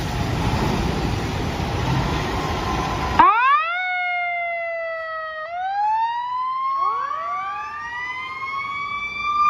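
A toy super truck fire engine sounds a rising, wailing electronic siren in repeated sweeps after a noisy stretch, loud and close, with no talking over it.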